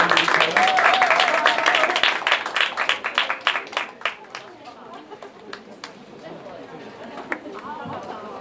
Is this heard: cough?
no